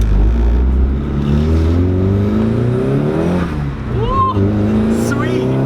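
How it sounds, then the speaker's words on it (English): Car with freshly installed new coil packs and sub harness, previously suffering engine break-up, driving along with a steady loud low engine drone that climbs in pitch as it accelerates, with brief voices and whoops near the end. "we're going to go ahead and take the car for a drive"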